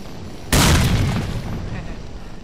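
A grenade detonates in the video game Lost Alpha, a single loud, sudden boom followed by a rumbling decay lasting about two seconds.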